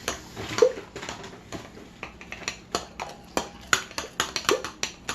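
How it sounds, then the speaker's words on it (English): Pineapple upside down cake batter stirred in a bowl, a series of soft, irregular scraping and tapping clicks of a spoon against the bowl, close and fairly quiet. "And Joe, you keep stirring."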